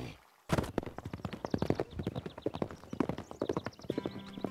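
A spooked wild horse in an animated cartoon, clattering hooves in quick irregular clip-clops with whinnying mixed in, close and lively after a brief quiet start.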